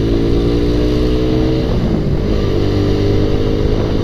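A motorcycle on a solo touring ride through Tanjung Pinang, 2023, gives a steady loud engine drone with a rising rev in the middle, close and continuous, with no talk.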